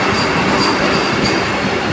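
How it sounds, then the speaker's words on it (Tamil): A long goods train rumbles steadily past a station platform, loud and close, its wagons roaring continuously with faint wheel squeal on top. "கூட்ஸ் வண்டி ஆட்டம் நீளமாக இருக்குது."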